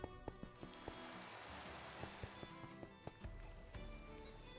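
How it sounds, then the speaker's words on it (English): Rain falls steadily in the Minecraft game Pixelmon, a faint wash of patter broken by scattered light tapping drops, without any talk. "It's raining now though."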